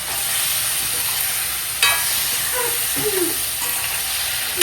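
Chicken sautés in a pan with coconut for a Pallipalayam-style country chicken fry, a steady close sizzle and hiss broken by a few sharp stirring scrapes and clinks.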